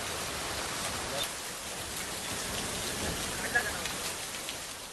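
Heavy monsoon rain pours steadily over Vasai Virar in Maharashtra, where streets lie waterlogged, making a dense, even hiss that holds for the whole stretch with a few brief louder splashes near the end.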